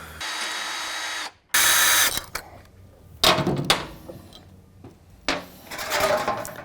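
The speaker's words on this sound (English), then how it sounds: "We got to drill a hole here where we're going to insert drain fitting." A power drill bores a hole in the cam cover of a Harley-Davidson Sportster for a drain fitting, with loud bursts of drilling separated by short pauses and clanks of handling the tool and part up close.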